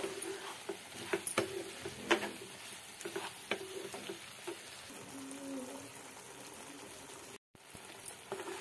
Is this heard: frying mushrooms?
yes